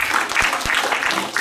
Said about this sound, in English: a big round of applause for the audience